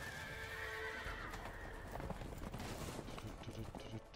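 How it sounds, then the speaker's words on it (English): Horses whinny and their hooves pound in a galloping clip-clop during a barn escape in the video game A Way Out, loud and continuous amid busy game noise. "the horses are escaping"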